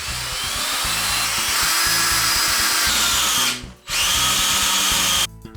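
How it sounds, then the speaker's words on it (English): A power drill drives hex screws into a rustic tabletop with a loud, continuous whirring hum close up, briefly easing off mid-way before starting again, then cutting out near the end. "let's now screw the hex screws in"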